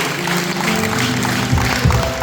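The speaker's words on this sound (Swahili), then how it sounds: "Pigie Yesu makofi mengi" Church congregation applauding for Jesus, a dense, loud wash of many hands clapping throughout, with voices mixed in.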